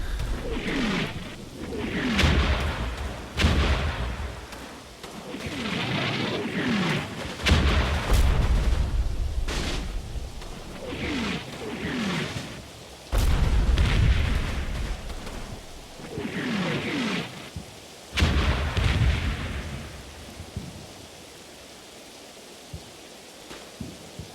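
Artillery and gunfire from the Normandy wargame Combat Mission Battle for Normandy, heard as a string of deep booming blasts and bursts recurring every second or two, fairly loud, with a quieter tail at the end.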